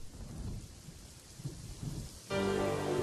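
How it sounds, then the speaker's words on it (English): Steady rain falls as part of a played ambient sound mix, a broad continuous hiss with soft low rumbles, joined near the end by a sustained tonal layer that swells in louder. "Starts off with rain and a piano"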